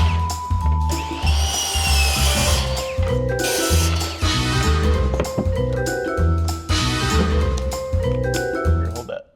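Miter saw cutting wood during a kitchen renovation, a loud motor whine with repeated cuts and knocks over steady tool drone, with brief voices in the background.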